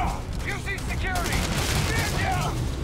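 Rapid gunfire from the space role-playing video game Starfield, a dense burst of repeated shots running loud and steady throughout, layered with game effects and a voice speaking over it.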